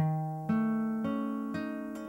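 Single guitar notes are plucked in a steady arpeggio, about four per two seconds, each ringing into the next, quiet and unaccompanied.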